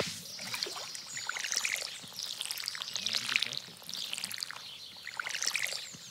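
Watering crops in the Stardew Valley farming game: a repeated splashy, hissing water effect comes in several soft bursts with steady game background sound underneath.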